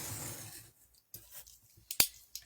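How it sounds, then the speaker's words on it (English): A few crisp, quiet snips of scissors cutting paper strips for a craft box, spaced irregularly at close range with soft handling sounds between and no talk. "do what I just did, cut 2 strips"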